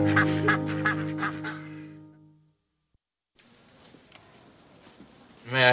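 Several loud, honking duck quacks overlap in a rapid burst, then fade into near silence before a muffled background rumble returns.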